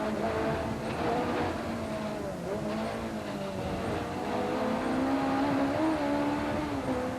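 Rally cars race flat out on closed tarmac roads, engines loud and continuous with rising and falling revs as they pass, no talking over the noise.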